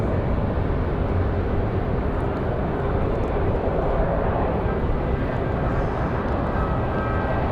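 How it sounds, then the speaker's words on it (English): A Frontier Airbus A321neo bound for Atlanta, prepared for departure at Raleigh-Durham airport, gives a steady, loud broadband jet roar that holds evenly throughout with no talk. "Frontier getting ready for departure. Frontier 1669 off to Atlanta, Georgia. A321neo."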